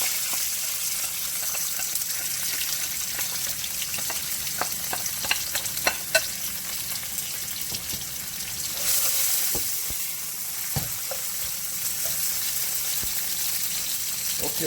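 Sweet pepper and onion frying in a pan, a steady moderate sizzle with occasional clicks and crackles and a brief louder surge of spitting partway through, no talking.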